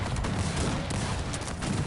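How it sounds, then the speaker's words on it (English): Loud, dense gunfire and explosions from a video game battle in which cannons are being destroyed, a steady crackling fusillade filling the whole moment, with no talk. "Sanyok destroying the cannons"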